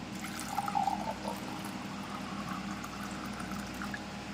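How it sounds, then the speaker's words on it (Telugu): Water is poured into a drinking glass, a soft, faint trickle that starts strong early on and then settles into a quiet, steady flow with no talking. "అందులో మనం కొద్దిగా వాటర్ తీసుకుందాం"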